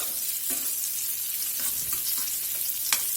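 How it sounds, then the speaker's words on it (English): Green chilies fry in a hot pan with a steady close sizzle, broken by a few sharp spits and pops and occasional stirring scrapes. "Those sizzled up about 5 minutes. on that first side."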